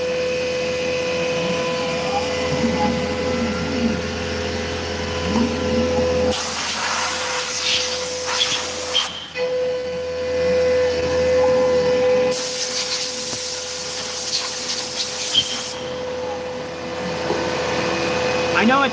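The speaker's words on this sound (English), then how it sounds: "I'm using the misting system." A DIY CNC lathe mills with a carbide end mill under a misting system, a loud steady whine and hiss of spray that cuts in and out in bursts over a constant shop drone.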